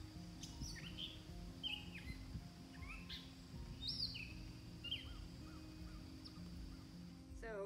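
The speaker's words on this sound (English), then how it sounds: "the birds are constantly chirping" Many small birds chirp and tweet around a house outdoors in summer, scattered calls near and far over a steady low background hum, with no talking.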